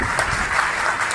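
Schoolchildren clap in welcome at a school's annual function, a steady, even patter of many hands filling the whole moment at moderate loudness.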